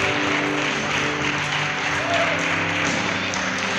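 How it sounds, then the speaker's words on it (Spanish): Church congregation applauding during a Spanish-language sermon, a steady, dense wash of clapping that continues evenly throughout, with a voice faintly mixed in. "Aplaudo al Señor con fuerza en esta mañana."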